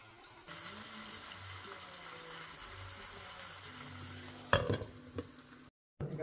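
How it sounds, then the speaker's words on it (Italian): Vegetables and lots of spices sizzling in a frying pan, a steady soft hiss with stirring, then a few louder scraping clatters before a brief cut-off. "qui sfrigola tutto gli ho aggiunto le verdurine tante spezie"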